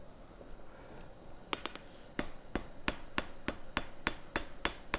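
A hammer strikes steel on an anvil while forging a sled part, starting with a few scattered blows, then settling into a steady run of sharp, ringing metallic hits, close and clear over a quiet background.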